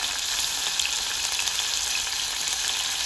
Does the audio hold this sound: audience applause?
no